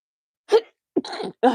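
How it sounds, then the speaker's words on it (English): Three quick, sharp sneezes in succession, close to the listener, separated by short pauses, with silence around them. "They come in threes, these sneezes."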